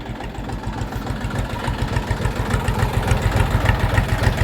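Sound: tractor diesel engine running

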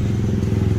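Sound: tuk-tuk engine in Thailand, sounding like a motorcycle

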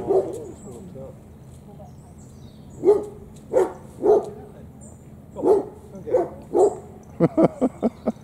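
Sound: dog barking

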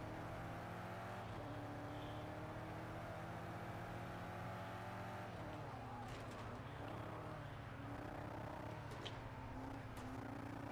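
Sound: race car engine in video game Project Cars 2, Red Bull Ring

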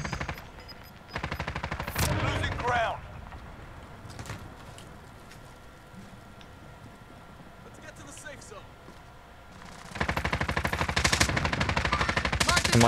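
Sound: gunfire from other players in a video game shootout

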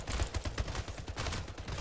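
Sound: gunfire in video game Splitgate

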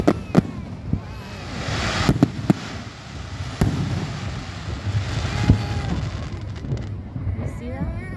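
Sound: fireworks rockets going off in grand finale

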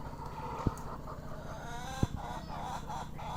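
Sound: farm hens clucking

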